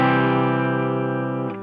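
A sustained electric guitar chord through a cranked amp on a Tone Master Pro, with the volume rolled up to about 3.5, sounds full and gritty, ringing steadily at close range before a brief pick or string noise near the end.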